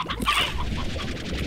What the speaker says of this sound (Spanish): Tengo 20 gallinas, lo cual está muy bien.